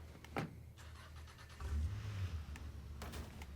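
A car in the video game State of Decay 2 idles and revs with a steady low engine drone, broken by a few sharp mechanical clicks and thumps, with no talking.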